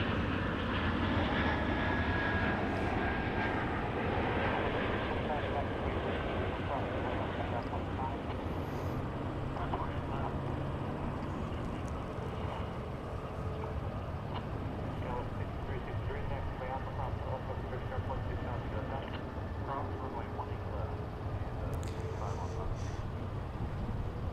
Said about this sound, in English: our Dreamliner is next from Shanghai on American 128 Heavy